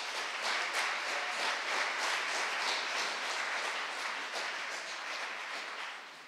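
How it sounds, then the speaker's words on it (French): Sustained applause from a studio audience at a French oratory contest final, dense steady clapping from many hands filling the whole stretch without pause, fading slightly at the end. "Mesdames, Messieurs, on applaudit Willem Dudy à la caméra"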